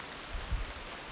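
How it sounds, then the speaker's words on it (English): Rain patters steadily beside the Rio Grande River, a soft, even hiss of falling drops with no voices. "The rain falls still"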